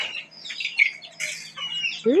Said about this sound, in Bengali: মুরগির বাচ্চাগুলো সব। হ্যাঁ চিল্লাও কে, ঝগড়া করো কে?